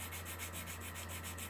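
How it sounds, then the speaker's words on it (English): Steady, even rubbing of wet sandpaper on a plastic scale model car body, a continuous close scratchy swish with a soft repeating back-and-forth pulse, heard alone. "dip it back in the water and go back to sanding"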